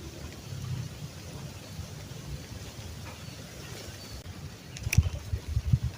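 Light drizzle falling outdoors at a fishing spot, a soft continuous patter of raindrops with a low rumbling undertone and a few louder bursts near the end, no voices.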